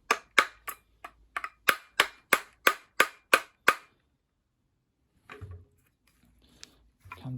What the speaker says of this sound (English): We have to try and tap this off somehow.